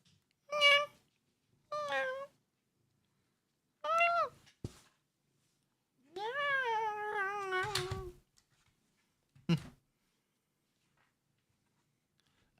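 A voice imitates a cat meowing, giving several separate drawn-out meows with pauses between them, the longest a wavering yowl near the middle. Each is close and fairly loud.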